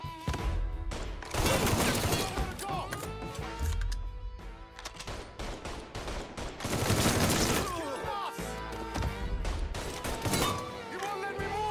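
Gunfire during a heist firefight in the Mafia III video game, dense bursts of rapid shots and crashing impacts in waves, loud and close, with shouting voices mixed in.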